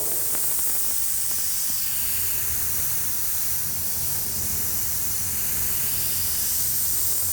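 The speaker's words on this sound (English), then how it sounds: "All of this with a medium airbrush right out of the bottle, no reducer whatsoever" A medium airbrush sprays opaque white Createx Illustration paint straight from the bottle with no reducer, giving a steady, close, unbroken hiss of air and paint mist.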